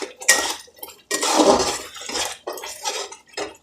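Masala spices spatter and hiss as they fry in a hot pan, with loud crackling bursts that come in uneven waves separated by brief quieter gaps.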